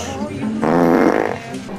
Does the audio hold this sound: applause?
no